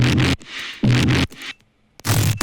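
Loud, gritty synth bass growl made with the Serum synthesizer in three bursts, separated by short gaps, with dense noisy texture across the range; no talking.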